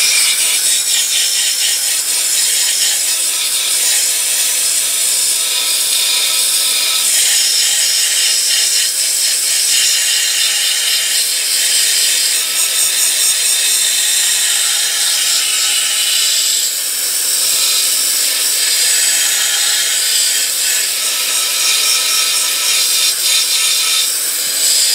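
A homemade sand blaster running at about 20 psi strips paint from an aluminum Coke can, giving a loud, steady hiss of blasting air and grit that continues without a break.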